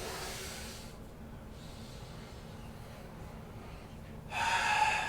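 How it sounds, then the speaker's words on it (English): Deep breaths during a yoga exercise, a long airy exhale-like hiss that fades into near quiet, then a stronger, close breath rushing in at the end. "But first breathe in deeply."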